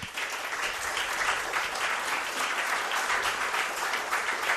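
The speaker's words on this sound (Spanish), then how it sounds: "Os pido un aplauso para él." An audience at an event on La Gomera applauds in steady, dense clapping that holds at an even level for several seconds without talk.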